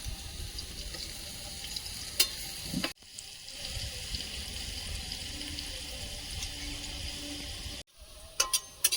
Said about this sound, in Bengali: আলুটা লাল লাল করে ভেজে নিয়েছি তুলে নেবো আলু ভাজার তেলে পটলটা ভেজে নেব